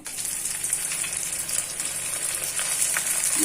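Hot oil sizzles and crackles loudly and continuously as sun-dried tomato crisps fry, a dense hissing fry with no voices.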